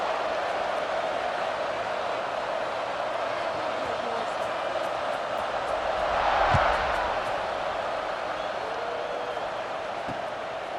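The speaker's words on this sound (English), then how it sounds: "this crowd is buzzing after that last score." A stadium crowd in the video game College Football 26 keeps up a dense, steady murmur with a brief swell midway, heard at a distance without clear cheers.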